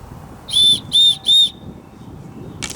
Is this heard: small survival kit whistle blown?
yes